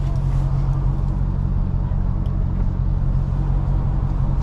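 A Hellcat car behind at night revving loudly, a continuous heavy engine rumble and whine that stays strong and steady throughout the short stretch.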